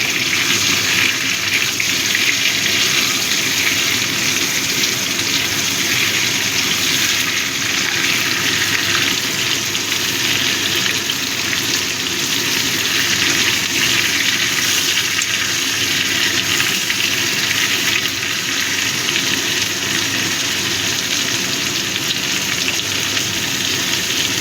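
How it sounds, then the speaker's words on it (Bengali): Potatoes fry steadily in hot oil for a crab curry, giving a dense, continuous loud sizzle with a faint watery hiss and no talking. "আলুগুলো একটু লাল করে ভেজে নেব ভালো মতো।"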